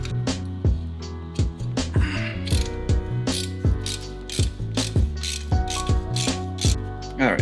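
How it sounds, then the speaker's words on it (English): A 1/2 inch socket ratchet loosens a brake hose bracket bolt on a 2016 Chevy Equinox, giving rapid clicking bursts in repeated strokes, close and loud, with no talk. "I'm gonna take the brake hose line off, or the bracket off, using the 1/2 inch socket."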